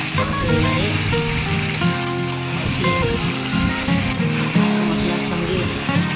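Marinated chicken fries in spiced oil for yogurt chicken, a loud continuous sizzle with stirring scrapes close by.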